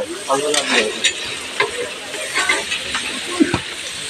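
Prasad fries in a large pot at an ashram, giving a continuous close sizzle with irregular scraping stir strokes, while people talk nearby.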